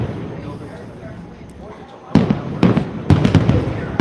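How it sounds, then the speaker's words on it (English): Fireworks are test-fired at Disney World at night, heard from a distance as several sharp booms in quick succession after a quieter stretch of ambient murmur and voices. "Got some firework testing going on, although I don't understand why they're testing Enchantment"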